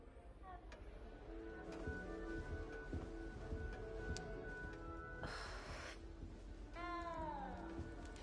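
A cat meows a few times in the Hogwarts Legacy castle, a short nasal cry near the end over soft game ambience, music and occasional speech.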